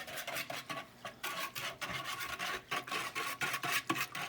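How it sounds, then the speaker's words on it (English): A whisk scrapes and stirs Oreo fluff mixture in a bowl in quick repeated strokes, each one a close, gritty swish with brief gaps between. "You're just want to whisk it until all the powdery substances disappears"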